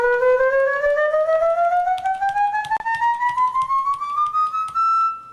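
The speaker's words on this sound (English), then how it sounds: "This is a scale that has 20 notes to the octave." A Samchillian plays a microtonal scale tuned to 20 notes per octave, a steady run of small rising steps with clicky tapping attacks, close and fairly loud, stopping abruptly near the end.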